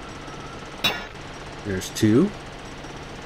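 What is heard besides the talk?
mech drilling for ore in a mining video game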